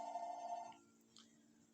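A telephone rings indoors, a steady electronic bell tone lasting under a second before cutting off, followed by a faint brief chirp, at low level against a quiet background.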